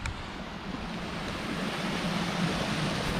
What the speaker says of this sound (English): There's all this water that's flowing straight down, makes a lot of air bubbles